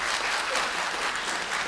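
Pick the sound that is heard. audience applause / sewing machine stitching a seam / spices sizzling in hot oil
audience applause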